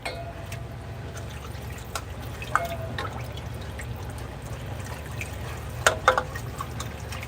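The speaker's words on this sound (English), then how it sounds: "And now I'm going to add broth." Broth pours into a roux for chicken peppers: a soft, steady liquid stream close by, with a few clinks and light splashes standing out near the middle and end, no talking.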